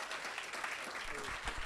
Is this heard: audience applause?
yes